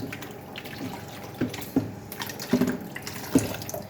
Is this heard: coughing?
no